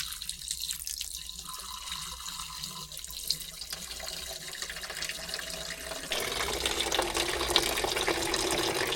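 Water trickles and runs as it is poured into the radiator of a Kubota RTV 900 utility vehicle and drains into the tank below, a steady close splashing flow that swells louder partway through.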